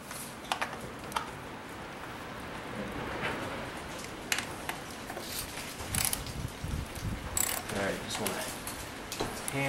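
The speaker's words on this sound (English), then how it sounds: "just hand tighten those with the little baby ratchet" A small ratchet snugs an ignition coil bolt by hand on a 2013 Ford F150 EcoBoost, giving scattered light clicks and taps close by, with some low mechanical rustle underneath and no clear talk.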